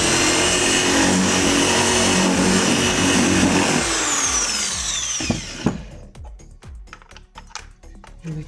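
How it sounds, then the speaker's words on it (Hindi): An electric drill whirs steadily while boring a hole into an electrical extension board, winds down after about five seconds, and is followed by scattered clicks and knocks as the board is handled. "ड्रिल मशीन देखे"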